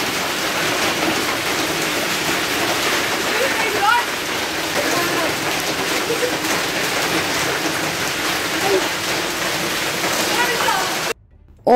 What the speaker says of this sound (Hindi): घर जाते साथ देखिए जी ओले बरस रहे हैं